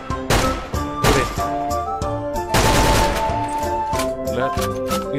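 Gunfire in a zombie video game: loud, rapid bursts of shots with thuds and impacts over a steady game music bed, with brief talk underneath.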